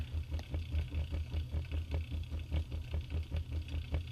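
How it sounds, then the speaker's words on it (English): A lawn mower reel being backlapped with grinding grit spins with a steady, rhythmic motor-driven churn, a low pulsing drone overlaid with repeated gritty scraping clicks, close and continuous, with no talk. "I wait for it to get quieter when it sounds like it's gone through all the grit"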